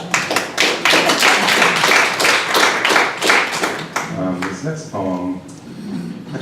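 Audience clapping at a poetry reading. Dense, loud applause fills the first few seconds, then thins to a few scattered claps mixed with murmuring voices.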